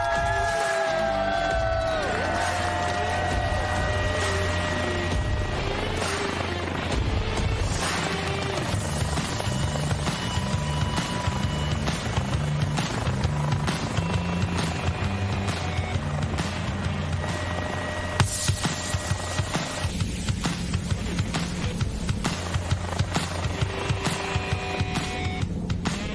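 An aircraft flies into a city in the video game Flight Simulator, with a steady, droning engine roar and layered tonal sounds that continue loudly throughout.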